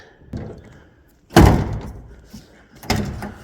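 A car door is shut after its interior panel is refitted, landing as a loud close thud, then a second solid slam a moment later, with softer handling knocks before them.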